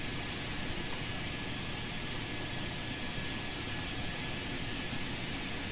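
Jet engine of a flying craft in a video game, a steady, loud, unbroken roar with a constant high whine held at the same level throughout, no voices over it.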